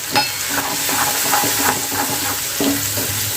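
Ground cumin and coriander are stirred into frying bottle gourd and chana dal, with a steady oil sizzle and repeated scraping strokes of a spoon against the pan, close and fairly loud.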